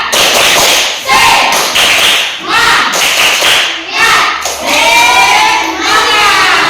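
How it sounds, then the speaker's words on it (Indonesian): A classroom of university students performs the rhythmic 'tepuk semangat' spirit clap, loud patterned bursts of hand claps alternating with group chanting, the teacher's voice leading between rounds. "Kita ice breaking, tepuk semangat. 1, 2, 3, tepuk semangat."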